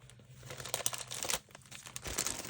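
Gift-wrapped advent calendar present being unwrapped: close, continuous paper crinkling and crumpling with sharp rustling bursts and a brief tear.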